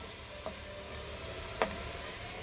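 Wine deglazes the pan of a beef bottom roast, giving a soft steady sizzle under a couple of faint scraping stirs, close by and quiet, with no talking.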